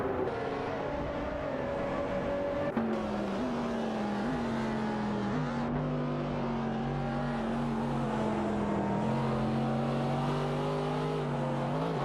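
Race cars in a video game, including a Ferrari and a Chevrolet Camaro, drone steadily with sustained engine tones that shift pitch as gears change, a continuous close-up roar with no talk.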